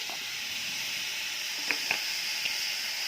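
Onion frying in a pan for a greens dish gives a steady close sizzle and hiss, with a few faint clicks of stirring.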